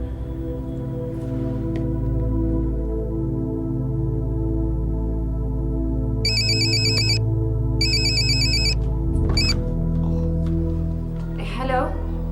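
A telephone rings in two loud electronic bursts over a steady musical score in a Hindi/Urdu television drama scene, with a brief voice near the end.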